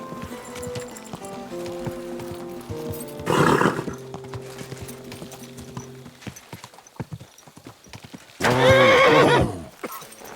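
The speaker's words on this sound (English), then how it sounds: "Your horse nearly trampled me!" Horse hooves clip-clop at a steady pace over a soft musical background in Kingdom Come: Deliverance II, with two loud whinnies breaking in, the second one longer and louder.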